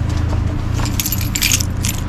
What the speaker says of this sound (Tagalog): Ay, kunin natin yung susi.